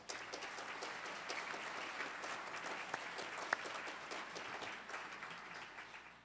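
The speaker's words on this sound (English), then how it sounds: "Please join me in a warm round of applause for all of them" Sustained audience applause from a civic forum crowd fills the room steadily for several seconds, dense and even with no voices on top.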